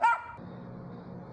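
A small dog gives one short, high bark at the very start, then a quieter low murmur of background room noise continues.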